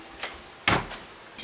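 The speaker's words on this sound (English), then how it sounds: "Kick down the door." A door is kicked open with one hard thud and rattle, preceded by a lighter knock and followed by a faint creak, nearby in a quiet space.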